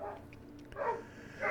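Dogs bark outside a room, a few muffled, moderately faint yaps and barks in quick succession, heard at a distance through walls.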